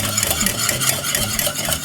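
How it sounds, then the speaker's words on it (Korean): Pastry cream is stirred without pause in a pot boiling over medium-high heat, a continuous close scraping and swishing with a faint bubbling beneath. "지금부터는 쉬지 않고 계속 저어주셔서"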